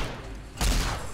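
A recharger pistol fires in a video game, a single loud burst swelling suddenly after a low steady background and holding for about half a second before easing slightly.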